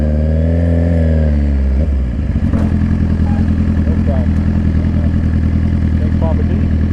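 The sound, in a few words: dirt bike engine riding up a hill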